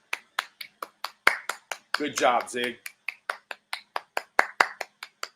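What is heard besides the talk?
hand claps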